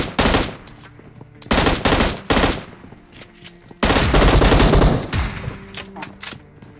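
Gunfire in the mobile battle royale game PUBG Mobile: loud bursts of rapid automatic shots in several clusters, with a longer sustained burst midway, over faint game background hum.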